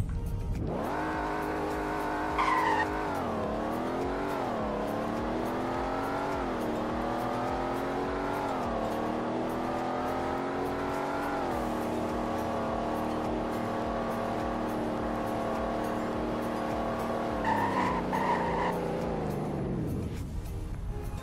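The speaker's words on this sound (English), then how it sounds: "Here's a 0 to 100 in braking test." Simulated car in the Roblox Greenville game accelerates through several gear shifts to a sustained high drone, with brief tire squeals near the start and again before the engine note cuts off as it stops.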